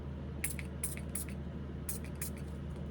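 Short hissing bursts of wig mist sprayed onto a Bratz doll's hair, several quick spritzes in two clusters over a low steady background hum.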